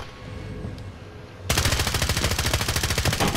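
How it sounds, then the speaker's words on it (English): Rapid automatic gunfire in Call of Duty Warzone, a dense burst of fast, regular shots that kicks in suddenly and loudly after a quieter stretch of ambient game noise. "Getting shot through the tent."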